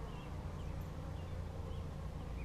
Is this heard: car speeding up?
no